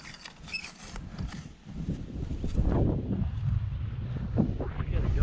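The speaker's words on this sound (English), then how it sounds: "So she's quite windy" Wind blowing outdoors buffets the microphone in uneven low rumbling gusts around a camping awning setup, steady and fairly close, with someone talking over parts of it and faint creaking mechanical sounds.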